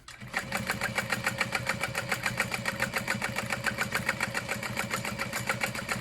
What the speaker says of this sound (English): we're just gonna sew along the edges of the smaller fabric